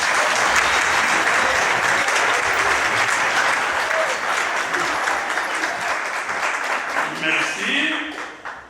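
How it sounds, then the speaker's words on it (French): Sustained audience applause at a university ceremony opening the academic year in Mbandaka, loud and dense throughout, easing slightly toward the end with a voice briefly audible at the close. "Je vous demande de l'applaudir."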